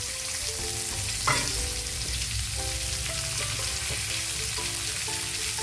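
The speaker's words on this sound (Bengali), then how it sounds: "এখন আমি আলু আর ওলকপিটা ভেজে নেব ওই কড়াইয়ের মধ্যে যে তেল ছিল ওইটার মধ্যে" Potatoes and kohlrabi frying in oil in a wok, a steady close sizzle with occasional stirring scrapes, while faint music plays in the background.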